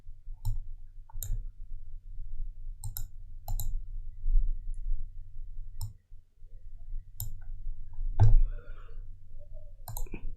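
A computer mouse clicks about a dozen times at irregular intervals while a thumbnail is edited on a design website, crisp close clicks over a low electrical hum.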